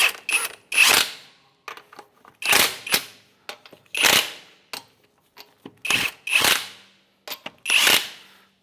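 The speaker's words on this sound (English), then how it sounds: "With a 22mm socket, we're just going to snug these up." A 22mm socket ratchet snugs sway bar bushing bolts on a 2007-2013 Acura MDX, giving sharp metallic clicks and clanks in spaced bursts, each followed by brief rattling, close and loud with no talking.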